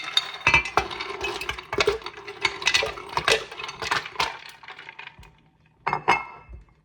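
Ice cubes drop into a container of homemade lemonade made from backyard lemons, giving a quick series of sharp, close clinks and clatters that fade to a final few knocks.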